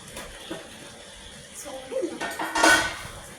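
Chicken pieces are mixed in a pan for chicken Manchurian, with scattered clinks and scrapes of a utensil against metal that grow louder and busier toward the end.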